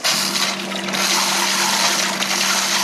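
Water rushes steadily through a van's freshwater system from a small electric pump, with a continuous broadband hiss and a faint steady pump hum underneath, close and fairly loud for a few seconds.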